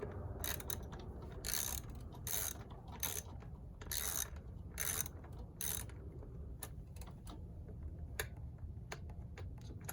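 Ratchet working loose a 5/16 bolt on a Kawasaki KLX exhaust, a quiet run of sharp clicks in bursts with brief pauses between strokes, close up against faint background noise.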